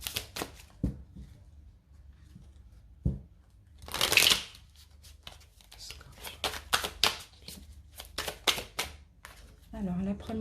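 Tarot cards shuffled by hand give crisp riffles and taps in short bursts, close to the microphone, with someone speaking French between them.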